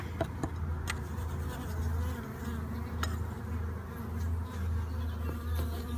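Bees buzz around an open, treatment-free beehive with dark comb and plenty of propolis, a soft, continuous hum of many insects with a few louder passes close by.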